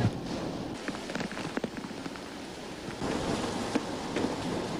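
Light, gusty rain from typhoon Glenda in Noveleta, Cavite, a steady wash of drops pattering on surfaces, with a few sharper splashes and a slight swell in intensity partway through, no voices.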